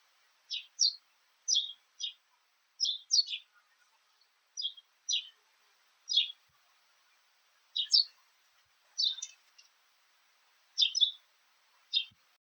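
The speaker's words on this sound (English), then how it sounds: "sparrows are small, quick, and chirp the happiest songs." Sparrows chirp in short, bright paired bursts, about a dozen quick calls spaced at a steady rhythm against near silence, clear and close.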